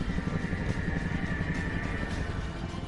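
A Chinook helicopter drones steadily overhead, its rotor thump blending into a continuous engine roar that holds even in loudness throughout.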